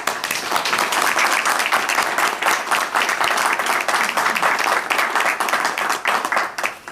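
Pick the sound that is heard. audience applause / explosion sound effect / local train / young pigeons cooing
audience applause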